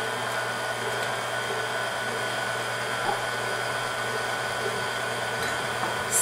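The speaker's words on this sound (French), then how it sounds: "On va mixer tout ça pendant 5-8 minutes le temps que ça s'épaississe." An electric mixer whips egg yolks with sugar, cornstarch and a pinch of salt into a thick beignet filling, producing a steady, unbroken motor whir that stays loud and even throughout with no talking.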